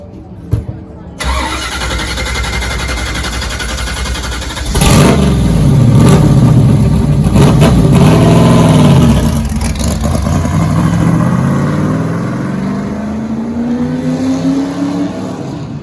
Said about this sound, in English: This next clip I will not be talking over because it is the car firing off.